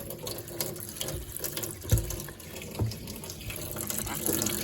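Water runs from a kitchen tap into a sink dish pan in a steady, moderate splashing rush, with a couple of soft clunks partway through.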